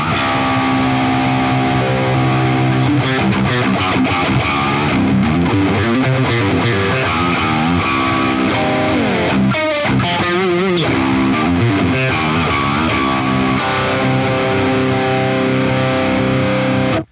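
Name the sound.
electric guitar mid-gain tone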